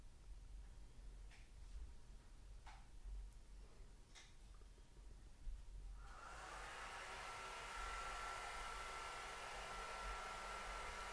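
After a few faint ticks and clicks in a quiet room, a hair dryer switches on partway through and blows steadily as painted gauze is dried, a constant airy whir continuing to the end.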